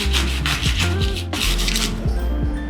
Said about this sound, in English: we're gonna prep the artichoke. For this, we're gonna use a serrated knife.